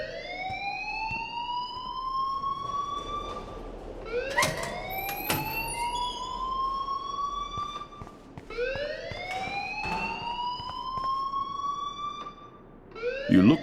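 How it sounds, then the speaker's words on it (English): An alarm rings in the video game Life is Strange: a loud, rising electronic wail that repeats in sweeps about every four seconds, with a short break near the end and no talk over it. "please turn off that alarm since that's your job"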